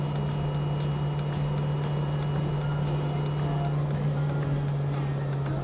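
A Lada Niva engine held at full throttle, a steady loud drone with a strong low hum that stays constant throughout, with no talk over it.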